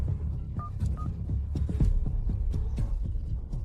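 Telephone dialing tones: a couple of short, clear beeps early on, set over a steady low pulsing throb that runs throughout the scene, with no voices.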